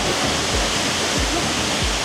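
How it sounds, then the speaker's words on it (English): Roaring Icelandic waterfall heard from behind the falling curtain of water, a dense, steady broadband rush that stays loud and close for the whole stretch with no pauses. "we are behind the waterfall"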